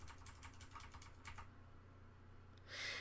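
Computer keys are tapped in a quick run of soft, close clicks for about a second and a half. A short quiet gap follows before one last burst of noise.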